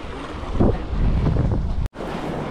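Strong wind buffeting the microphone out on the sea from a fishing boat, a loud steady roar with wave wash, cut by a brief dropout near the end.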